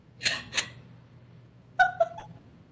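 Two short cat meows, a pause, then two more higher, tonal meows, close and clear against a quiet background.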